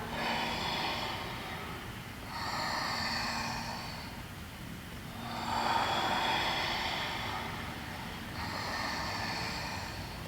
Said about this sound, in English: Breathe in. Push down with the forearms.